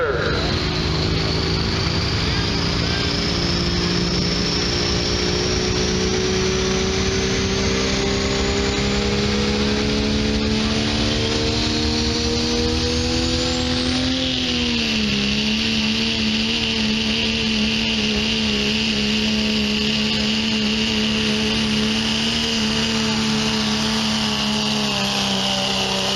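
A 1997 Dodge diesel truck with multiple turbos pulling at a county fair truck pull, its engine roaring loud and steady while turbo whine climbs and boost builds, dipping briefly midway before holding a sustained high-pitched scream; an announcer's voice is faintly mixed in.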